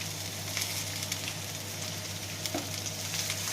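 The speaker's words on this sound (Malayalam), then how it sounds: "ഇനി നമുക്ക് ചെറുതായി അരിഞ്ഞു വെച്ചിരിക്കുന്ന കോവയ്ക്ക ഈ വെളിച്ചെണ്ണയിൽ ഇട്ടിട്ട് ഒരു 2 മിനിറ്റ് വഴറ്റിയെടുക്കാം" Chopped ivy gourd sautéing in coconut oil, giving a steady, dense sizzle that holds evenly throughout with a faint occasional stir and no voices.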